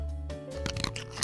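Ice cubes crunched between the teeth, giving a few sharp, close crunching bites over a faint tonal background.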